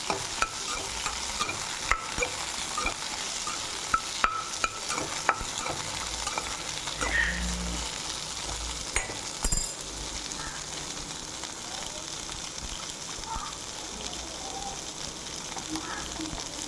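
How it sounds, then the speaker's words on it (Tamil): Ivy gourd sautéing in a pan, with steady frying sizzle and frequent clinks and scrapes of a spoon stirring against the metal, continuous and close throughout. "இப்போ கொஞ்சமாக உப்பு போட்டு வதக்கலாம்."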